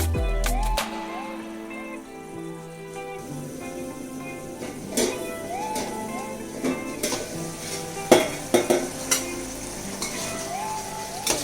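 Mushrooms cook in a brass pan with a soft sizzle, overlaid by intermittent stirring scrapes and metallic clinks of utensils against the pan, with background music throughout.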